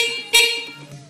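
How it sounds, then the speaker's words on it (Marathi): A new electric scooter's horn gives one short, bright electronic beep close up, sharp at the start and then fading, with a faint tone lingering after. "इथं हॉर्न वाजवला"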